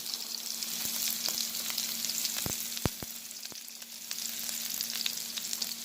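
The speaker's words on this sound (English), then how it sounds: "Caramelize the onion." White onion caramelizing in a pan for Asian-style fried rice with jerk chicken: a steady, crackling sizzle with several sharp clicks and taps of a utensil against the pan, close up, no voices.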